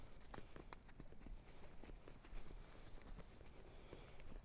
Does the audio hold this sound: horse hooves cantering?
yes